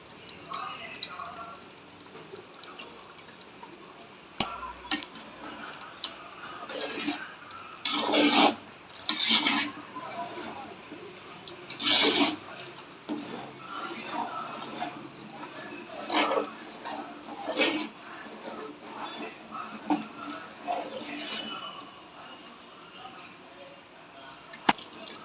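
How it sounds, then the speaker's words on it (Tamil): Water is poured into a pot of seeraga samba mutton biryani, coming as several short splashing, rushing bursts over a low, steady background. "இப்போ கறி வேகிறதுக்கு தேவையான தண்ணியை ஊற்றி"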